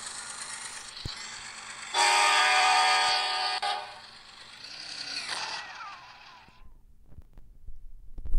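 A CSX freight train in a railroad video game sounds its horn in one loud, sustained blast over a rolling rumble, then the horn cuts off and the train noise fades away.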